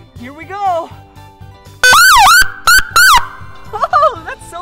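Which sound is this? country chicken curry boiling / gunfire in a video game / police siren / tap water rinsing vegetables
police siren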